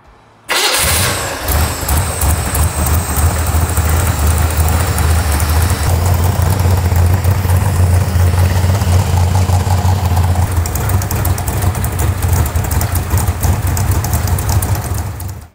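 A car engine fitted with FiTech EFI fuel injection and a wild cam starts up and settles into a steady, loud idle at operating temperature that runs close by for the rest of the clip.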